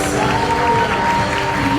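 A church congregation at a baptism service applauds in a dense, steady wash of clapping and crowd noise, with a sustained tone running underneath throughout.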